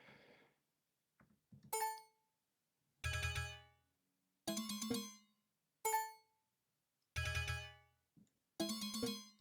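Short electronic alert tones from a data collection terminal, a series of bright chiming blips with a dissonant, falling pitch, repeated several times at roughly one-second intervals, quiet and clean with no talk.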